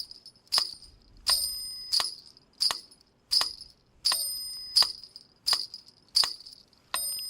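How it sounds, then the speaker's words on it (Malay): A hand bell struck repeatedly in a percussion lesson, about eight bright, ringing strikes in a steady rhythm, each decaying briefly before the next, loud and close with no talk. "kita kena main loceng seperti ini yang ditunjukkan pada video tersebut."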